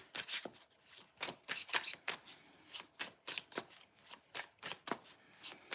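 Rapid, rhythmic riffling of a tarot deck with linen-like card stock, a crisp flutter repeating in quick bursts about twice a second, close up and with no voices.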